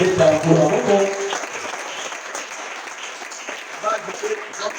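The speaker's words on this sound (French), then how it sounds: "est-ce qu'on peut acclamer?" A church congregation breaks into applause, a burst of clapping that starts fairly loud with a voice speaking over it, then thins and fades to scattered claps.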